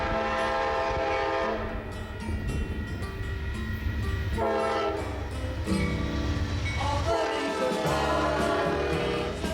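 A US passenger train rumbles past close by, crossing the Sierra Nevada toward San Francisco, while its loud horn blares in several long, sustained blasts.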